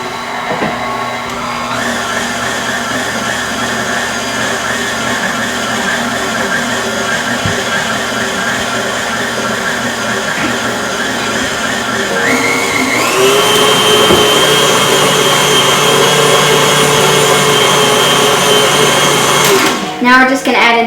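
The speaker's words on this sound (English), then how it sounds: "Now we're just going to mix this on low for a few seconds" An electric mixer runs on low through cocoa and heavy whipping cream as a loud, continuous whirring drone that shifts pitch partway through, with a voice occasionally heard over it.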